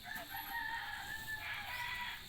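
Brahma roosters crow over a steady background of clucking Brahma chickens, a busy farmyard chorus that stays fairly constant throughout.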